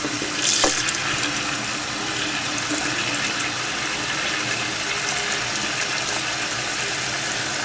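Tap water runs steadily into a container, a continuous hissing splash close to the microphone with a brief louder gush near the start and no talking.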